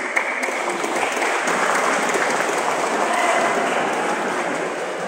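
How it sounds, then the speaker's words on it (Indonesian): Crowd applause at a school year-end ceremony with Qur'an recitation completion, a dense, steady wash of clapping from a large audience that continues evenly throughout, fairly loud and with no voices over it. "Tepuk tangannya kelihatan agak kecewa."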